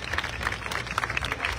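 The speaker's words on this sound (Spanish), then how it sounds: "Fuerte el aplauso, por favor, para despedirlos." Applause from an audience at an evening municipal event in Ciudad Madero, a dense patter of claps with some crowd murmur, moderately loud and steady for a short stretch.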